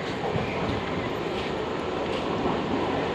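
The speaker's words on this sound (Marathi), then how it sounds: "आता आपली ट्रेन आलेली आहे, तुम्ही इथं बघू शकतात पनवेल धानू रोड." A Panvel-Dahanu Road passenger train pulls into a station platform with a steady, loud rumble of rolling wagons and a dense wash of noise that never lets up.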